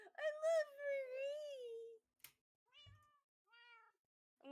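Marie, a pet cat sitting on a lap, gives a long drawn-out meow followed by two shorter, fainter meows after a pause, close and clear against near silence.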